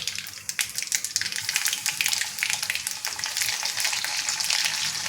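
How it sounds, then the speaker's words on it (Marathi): Garlic frying in oil with mustard seeds in a kadhai, a dense, steady sizzle with rapid crackling pops that runs continuously and close up, with no voices. "हा आपला लसूण आता कुरकुरीत व्हायला सुरुवात झाली आहे"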